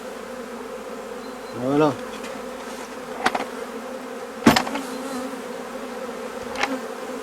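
Honey bees shaken in a hive drone in a steady low hum with several sharp knocks and bursts. Someone speaks briefly.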